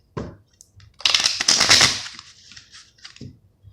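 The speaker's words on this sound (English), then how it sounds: "One more shuffle." A deck of tarot cards is shuffled close up: a quick riffle of crisp, rapid card flicks, then a few scattered taps and a final soft snap.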